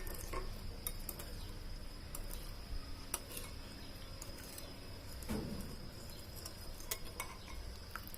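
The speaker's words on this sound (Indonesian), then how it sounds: "Kita aduk sampai gulanya benar-benar larut." Tamarind water and sugar for pempek cuko sauce being stirred in a pot: faint, soft scraping swirls with light clicks of a utensil against the side, quiet and close with a faint steady background hum.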